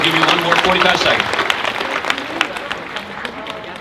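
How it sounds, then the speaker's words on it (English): A conference audience at a summit applauds the interpreters, with loud clapping that starts strong and thins out over a few seconds, voices mixed in beneath. "can we have a round of applause for our interpreters for their great work?"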